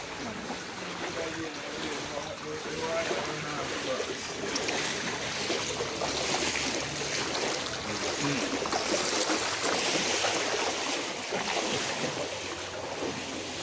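People wade through knee-high flood water in a residential community, making continuous close sloshing and swishing splashes over a steady bed of wind noise.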